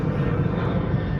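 An airplane passes overhead near a beach on Kish Island, a steady broad engine roar filling the short stretch at constant loudness with no voices.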